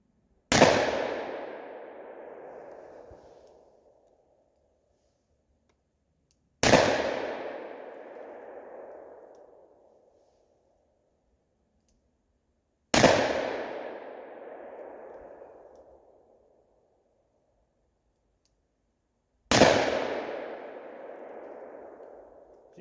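A Ruger SP101 revolver firing 158 grain hand loads outdoors, four loud, evenly spaced single shots, each followed by a long rolling echo that fades out before the next.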